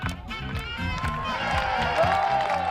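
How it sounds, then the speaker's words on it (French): Festival crowd outdoors applauding and cheering as a giant chimera figure comes in to land, a swelling mass of clapping and high cheers, with rhythmic thumping underneath and voices calling out. "sous les applaudissements du public"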